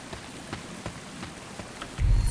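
Steady rainfall in the video game République, a dense patter of drops spread evenly throughout, with a louder low rumble swelling in at the very end and no voices.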